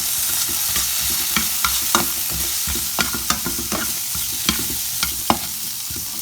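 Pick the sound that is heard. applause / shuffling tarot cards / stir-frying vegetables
stir-frying vegetables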